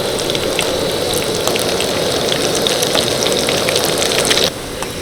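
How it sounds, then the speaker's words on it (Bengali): Spiral rolls frying in medium-hot oil, a loud, dense, continuous crackling sizzle that stays steady and then eases off abruptly at the end. "মিডিয়াম গরম তেলের মধ্যে আমি কিন্তু এই যে পেঁচানো রোলগুলো ছেড়েছিলাম"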